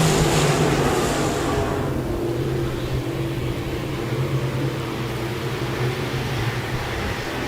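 Stock cars racing on the Park Jefferson Speedway, a steady roar of engines from the pack, loud at first and then settling into a continuous far-off drone.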